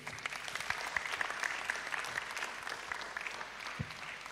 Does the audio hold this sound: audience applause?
yes